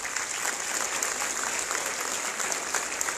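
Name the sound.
audience applause at a conference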